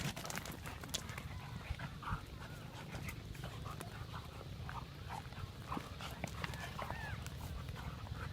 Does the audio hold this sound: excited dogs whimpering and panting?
yes